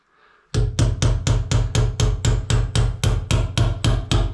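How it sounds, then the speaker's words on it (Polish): Nails hammered into a garage wall made of Super Exa material: a steady run of about fifteen sharp, evenly spaced hammer blows, loud and close, each with a short ringing decay, after a brief quiet start. "I bardzo fajnie się wbija te gwoździe."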